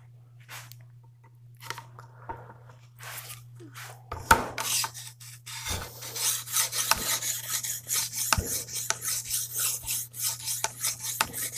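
A cleaver is sharpened on a 120 grit stone with rasping, rhythmic scraping strokes, sparse and quiet at first, then steady and louder back-and-forth grinding under a faint constant hum.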